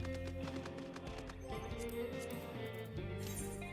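Hoofbeats of a horse mount moving in Final Fantasy XIV, a steady clip-clop under a dense, continuous game music bed, the footsteps fairly soft and blended into the mix.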